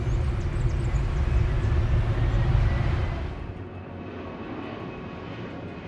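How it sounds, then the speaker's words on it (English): A fixed-wing aircraft lands at Tenzing Hillary Airport, a short runway cut into a slope above a narrow Himalayan valley. Its loud, steady engine roar fills the opening seconds, then drops away to a lower, quieter hum, with no voices. "Most visitors begin their approach by landing at Tenzing Hillary Airport, a short runway cut into the slope above a narrow valley"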